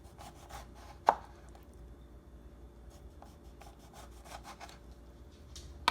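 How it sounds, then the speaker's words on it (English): A knife slices lemons thinly on a cutting board for homemade lemonade, giving a series of quiet, close cutting strokes with a few sharper taps, faint overall and with no talk. "I'm going to work on slicing my lemons now"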